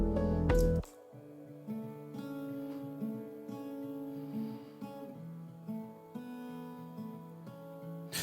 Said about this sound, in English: I wanted a bit more texture to it, so I added some acoustic guitar.